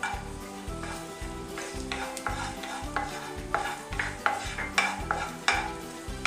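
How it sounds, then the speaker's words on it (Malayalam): Raisins frying in hot ghee crackle and sizzle close by, with repeated stirring scrapes against the pot coming in a quickening rhythm and no talking. "നെയ്യ് ചൂടായ ഉടനെ ഞാൻ ഇതിനകത്ത് ആദ്യം കിസ്മിസ് ഫ്രൈ ചെയ്തെടുക്കാൻ പോവാം"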